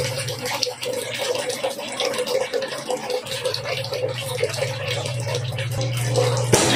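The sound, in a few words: water draining from tank for float switch test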